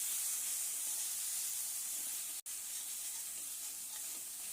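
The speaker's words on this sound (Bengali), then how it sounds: "এবার এটাকে ভালো করে কষিয়ে নেব মশলাটা।" Ground coriander, cumin and turmeric frying with garlic masala in a pan, a soft, steady hiss of sizzling oil with one brief dropout partway through.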